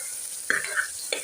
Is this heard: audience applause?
no